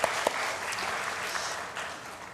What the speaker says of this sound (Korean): 우리 교사들에게 격려의 박수 한번 하겠습니다